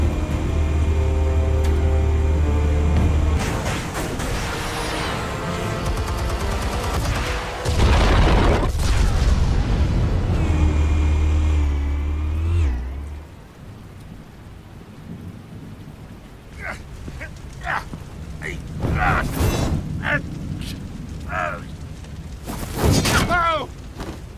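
Explosives detonate in the Batman Telltale video game: a long, loud rumbling roar of blasts and debris, then scattered sharp booming hits as it dies down.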